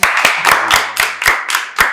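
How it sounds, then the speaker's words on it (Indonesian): Group of people clapping hands in unison during a group counseling session: about eight sharp, evenly spaced claps in a steady rhythm, close and clear, with a brief voice underneath. "tepuk tangan dong"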